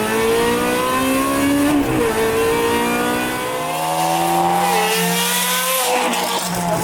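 A Ferrari 360 Modena fitted with a Capristo exhaust gets two sharp throttle blips, its engine note rising and falling twice before settling into a steady idle-to-mid rev, loud and close.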